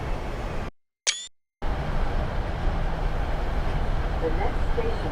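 A camera shutter fires once in the train simulator Train Sim World 6, a short click inside a brief silent cut, with steady train and station ambience before and after.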